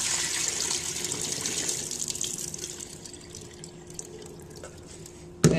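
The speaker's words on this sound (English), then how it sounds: "Get rid of the excess dirty water." Cloudy rinse water from washed sushi rice is poured out of a bowl, a close, steady gushing splash that tapers to a thin trickle and drips, ending with a brief knock.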